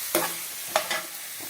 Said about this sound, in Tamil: அந்த 2 பச்சை மிளகாய் இதோட போட்டு வதக்கிடலாம்